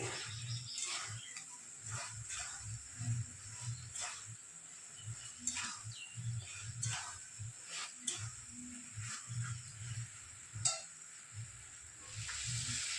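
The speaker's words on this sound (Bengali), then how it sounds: "সবজির সঙ্গে মশলা একটু মিশিয়ে নিতে হবে নেড়ে চেড়ে" Vegetables and spices are stirred together in a pan for shukto, a soft, close series of irregular scraping strokes and faint sizzling, quiet overall, with no talking.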